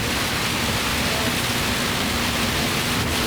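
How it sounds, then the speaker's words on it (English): Dense, constant rain hiss in Gran Turismo 7 at High Speed Ring fills the whole stretch at a loud, even level, with a low McLaren Gr4 engine hum beneath it. "You can hear me hopefully over the rain."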